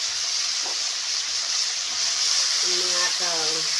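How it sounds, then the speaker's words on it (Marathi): Spices crackling in hot oil for tempering a bottle gourd dish, a loud steady hiss of frying close by, with a voice speaking briefly over it near the end. "आणि त्याला फोडणी द्या पहिल्यांदी"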